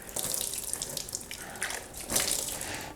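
Water runs steadily from a tap into a sink while boiled water is used to rinse brewing equipment for all-grain beer, a continuous splashing flow with no talking.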